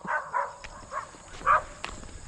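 A dog barks several times in short, separate bursts at moderate distance, with faint background noise between barks, outdoors by a vegetable garden.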